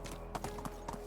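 Horse hooves clip-clop in a steady, quiet rhythm as a horse is ridden in the medieval life-sim video game Medieval Dynasty, several soft hoofbeats in just over a second.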